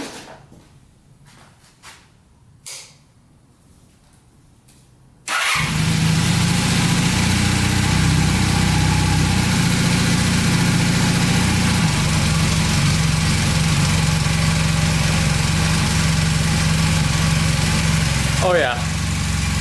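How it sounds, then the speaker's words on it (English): Old Honda motorcycle starting on its electric starter, catching abruptly and settling into a loud, steady idle that runs on for about fifteen seconds; quiet talk and handling noise come before it starts. "let's see if she starts up here with the electric start"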